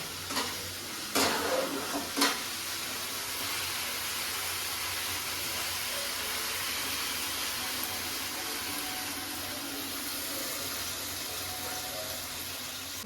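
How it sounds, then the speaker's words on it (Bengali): Hot oil in a pan for a Bengali tomato pabda fish curry hisses and sizzles steadily after a little water is poured in, with a couple of sharp clatters near the start, then an even frying hiss throughout. "এবার আমি সামান্য একটু জল দেবো যাতে মাছটা গা ভাসা হয়"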